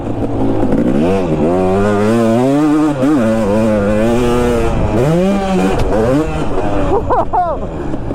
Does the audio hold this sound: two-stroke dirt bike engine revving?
yes